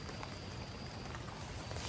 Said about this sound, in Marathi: इकडे आत्ता पाऊस थोडा थोडा कमी झालाय